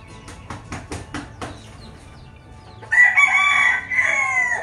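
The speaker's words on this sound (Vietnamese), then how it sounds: "những cái dòng gà tre Tân Châu này cứ liên tục cho ra những chú gà con nuôi chăm sóc lên thành gà trưởng thành" An adult Tan Chau bantam rooster crows loudly and nearby. A few sharp taps and clicks come first, then a long, ringing crow fills the second half, with no speech.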